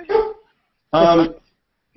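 A dog barks twice at close range during an online meeting, two separate loud barks with a pause between them.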